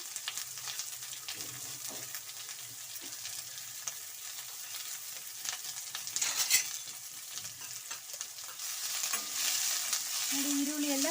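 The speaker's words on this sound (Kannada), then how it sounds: "ಚೆನ್ನಾಗಿ ಫ್ರೈ ಆಗಿದೆ ನೋಡಿ ಈರುಳ್ಳಿ ಎಲ್ಲ ಫ್ರೀ ಆಗಿದೆ" Chopped onions frying in a pan for an alsande kalu usli dish, a steady close hiss and sizzle with occasional stirring scrapes throughout.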